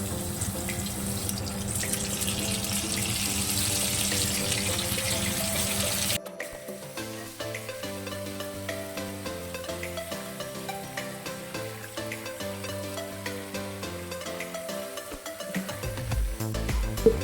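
Cauliflower florets fry in hot white oil in a wok, a soft, steady sizzling hiss for several seconds that fades under background music.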